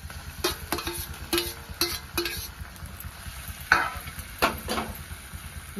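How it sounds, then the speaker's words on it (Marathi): Mashed eggplant bharit stirred into green chillies frying in oil, with a low sizzle under a series of sharp scraping and tapping strokes of a spatula against the pan, close by. "मी आता ही वांग्याचं भरीत ह्यात टाकून घेते।"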